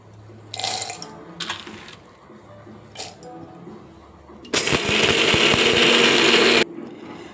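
A mixer grinder jar coarsely grinds roasted, skinned peanuts, first in a few short rattling pulses, then in one loud, continuous whirring burst of about two seconds before stopping.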